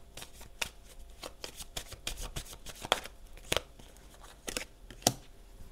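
Playing cards are shuffled and laid down on a table during a card reading, giving close, crisp snaps and slaps at an irregular pace with nobody talking.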